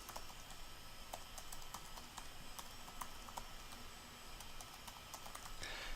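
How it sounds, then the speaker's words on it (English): Login details being typed on a computer keyboard, a quiet, steady run of light key clicks at an even pace, heard alone under a soft background hiss. "So you just type in all this information."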